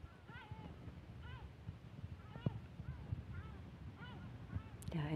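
Seagulls call repeatedly at a Spanish location, short rising-and-falling cries recurring about once a second over steady outdoor rumble, fairly faint and at some distance.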